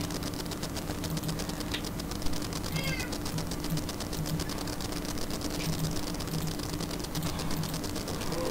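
A cat meows repeatedly in the Minecraft Lucky Block mod, short game meows over a steady low hum of background game audio.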